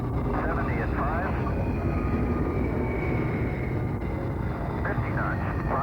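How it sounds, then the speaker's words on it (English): A Space Shuttle touches down and rolls out on a runway in a Florida wildlife refuge, its steady broadband roar of decelerating airflow filling the scene while radio callouts and narration run over it. "Here, in the middle of a Florida wildlife refuge, the shuttles land."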